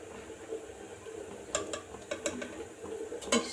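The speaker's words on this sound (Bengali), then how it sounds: "এই যে এদিকে একটুখানি সাদা তেল দিয়ে মুগ ডালটাকে ভালোভাবে ভেজে নিচ্ছি।" Mung dal being fried in a little white oil in a pan, a faint soft sizzle broken by several sharp clicks and scrapes of a utensil against the pan.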